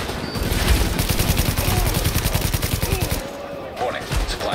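Enemy weapon fire in the shooter Tom Clancy's The Division, a loud steady run of rapid shots that lasts about three seconds, then a quieter stretch with scattered effects.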